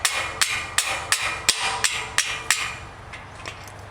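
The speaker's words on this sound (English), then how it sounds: "give it a couple hits with the hammer" Sharp metallic hammer taps drive a lock cap onto a gate swing lock pin in a steady rhythm, about nine blows with the last few softer and fading, close and clear with no voices.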